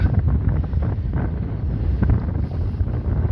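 Strong wind roars across the microphone at sea around a fishing boat, a loud, continuous low buffeting with small gusty swells and no talking.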